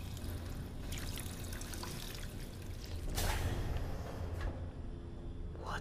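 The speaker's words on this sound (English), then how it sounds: "Let me drink some more water." Water being drunk in Fallout 4, a steady trickling, pouring sound with a brief louder gush near the middle, heard alone at close range over a low ambient rumble.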